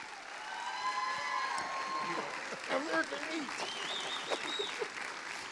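Applause rises from a Sunday morning church audience for a guest, a steady patter of clapping with voices calling out and talking over it, moderately loud throughout.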